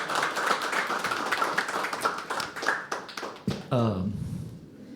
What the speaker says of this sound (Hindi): एक बार फिर से जोरदार ताली हो जाए।